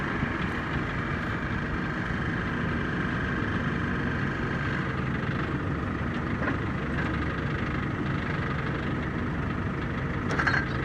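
A telehandler booms back in while carrying a tractor wheel for a Chamberlain C-6100 dual-wheel project, its diesel engine a steady, unbroken drone close by.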